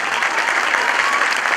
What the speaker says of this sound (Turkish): Kendisini kuvvetli bir alkış alalım.